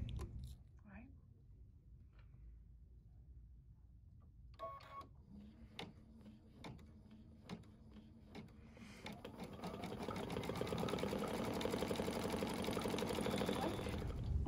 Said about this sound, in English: Thread with mat and embroider the snowflake color.